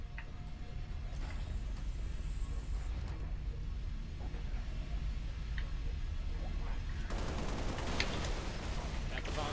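Rapid gunfire from Halo multiplayer on the Master Chief Collection, dense overlapping shots and bursts running steadily through the stretch, with a sharper, busier barrage near the end.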